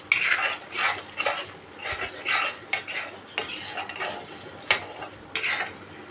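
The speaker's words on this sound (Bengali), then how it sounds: "এখন আমি এইটাকে একটু কষিয়ে নিয়ে তারপরে চিকেনটা ঢেলে দেবো।" Chicken biryani marinade of spices and Kashmiri chilli being stirred and sautéed in a pan in a small kitchen, with soft sizzling under rhythmic scraping strokes of a spoon, close and moderately loud, with no voices.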